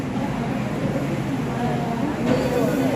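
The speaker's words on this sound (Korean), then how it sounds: "열차 도착했어." A subway train pulls into a station, a steady rumbling roar with a rising screech near the end, heard close on the platform under faint background noise.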